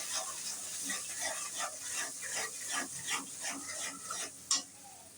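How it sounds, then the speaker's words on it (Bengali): Bottle gourd curry with chicken feet, gizzards and liver is sautéed in a pan, with rhythmic stirring strokes, roughly two each second, scraping over a soft, continuous sizzle and ending in one sharper knock. "এটাকে আমি সুন্দর মতন কষিয়ে নেব।"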